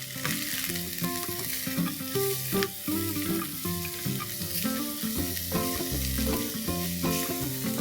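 Shredded cabbage sambharo with curry leaves, turmeric and salt being stir-fried in a pan, a steady close sizzle with stirring running throughout under continuous tonal background music.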